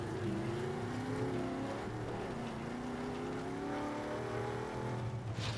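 A vehicle driving in the Battlefield 6 video game, its engine a loud, continuous rumbling drone with wavering pitch as it revs and shifts, close and steady throughout with no voices.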